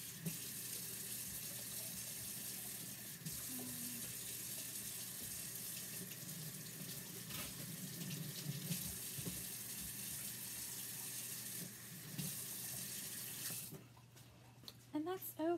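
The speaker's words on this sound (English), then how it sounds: "I'm gonna go rinse this off" Tap water runs in a continuous, steady hiss and splash while a chalk transfer screen is rinsed, stopping near the end, with faint talk in the background.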